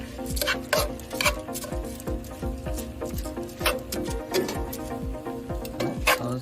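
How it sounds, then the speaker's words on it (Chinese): Stirring rice into a cooking pot for a Mediterranean beer chicken risotto, a steady rhythmic scraping and clinking of a utensil against the pot, with light sizzling underneath. "我们主要是把它跟这些锅子里面的东西拌均匀啊"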